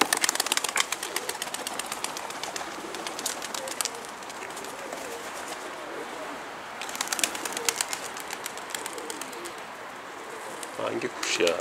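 Pigeons cooing in a loft or rooftop coop, a soft, steady murmur of coos with brief bursts of wing flapping, heard close and continuous throughout.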